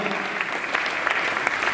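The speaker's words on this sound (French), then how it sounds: "On applaudit à ce binôme" A crowd at a university stage event in Kisangani applauds a duo coming on stage, a dense, steady wash of many hands clapping throughout at moderate volume, without voices on top.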